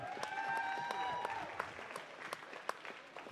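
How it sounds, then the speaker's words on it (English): Light, scattered clapping from a small audience at a county livestock sheep show, sharp individual claps over faint background sound and a few tonal tones early on. "Guys, let's give these kids one more time a great big round of applause."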